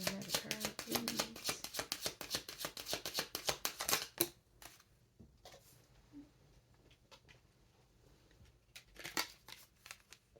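Tarot cards are shuffled in a fast, crisp flurry of close papery riffling, then go quiet, with a few sparse slaps and a brief flutter as cards are drawn.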